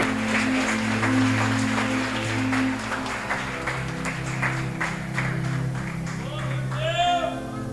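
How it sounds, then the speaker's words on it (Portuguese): A church congregation at a women's congress claps to welcome a missionary speaker, scattered applause mixed with music and voices in a reverberant hall. "Receba a serva do Senhor com palmas."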